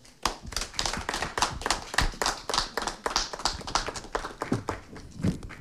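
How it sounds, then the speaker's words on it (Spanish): A small audience claps for a new member receiving credentials at a radio announcers' association ceremony, with distinct individual hand claps in an irregular patter, close and fairly loud, tapering slightly at the end. "le damos un fuerte aplauso"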